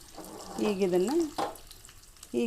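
Curry leaves sizzle and crackle in hot oil while a chutney powder made with roasted gram flour is prepared, a soft, steady frying hiss beneath a voice speaking over it.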